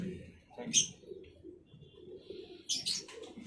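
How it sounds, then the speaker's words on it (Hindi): A pigeon coos softly amid low murmuring, with a couple of brief bright chirps or flutters standing out near the start and end. "देखिए जी कैसा शानदार कबूतर आया"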